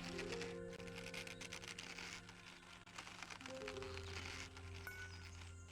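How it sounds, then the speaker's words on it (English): Rapid, continuous clatter of a keyboard space bar being hammered during a wild horse taming minigame in Black Desert Online, close and fairly quiet, with game music tones underneath. "So I have to now spam my space bar until the horse calms down and then I can move closer."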